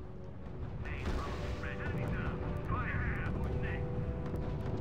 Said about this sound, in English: Sir, the field artillery battalion is opening fire.